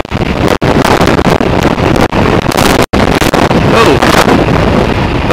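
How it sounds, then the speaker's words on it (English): Heavy wind buffeting the microphone while riding a motorcycle, loud roaring gusts with brief dropouts and engine noise buried beneath. "It's a bit windy."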